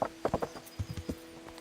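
Horse hooves clip-clop in a few quick, moderately close strikes in the medieval game Kingdom Come: Deliverance, with a faint steady hum underneath.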